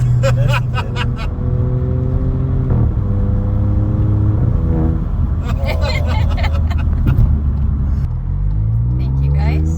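A modified VW Polo's exhaust revving in several rising and falling blips, loud and close, with brief voices and street bustle mixed in between the throttle bursts.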